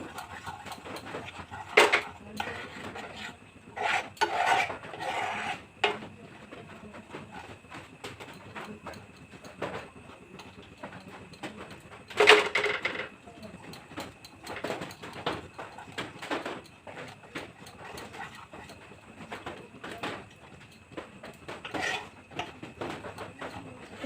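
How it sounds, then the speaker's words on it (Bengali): Utensil stirring white sauce in a pan, working out lumps for restaurant-style pasta: irregular scraping and clinking strokes at close range, with a few sharper knocks against the metal and no talking. "যেন কোনো গুটি না থাকে, আমি ভালো করে মিশিয়ে নিচ্ছি।"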